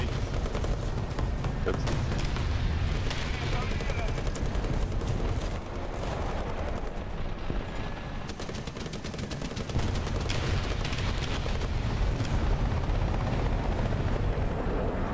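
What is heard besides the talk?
gunfire and helicopter in video game War Thunder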